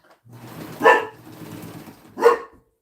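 Dog growling and barking at home, a low rumbling growl running underneath with two sharp, loud barks about a second and a half apart, close by.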